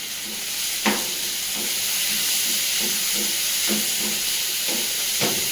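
Tomatoes sizzle steadily in a hot frying pan for a North Indian sarson dish, a constant bright hiss broken by several sharp clicks and scrapes of stirring.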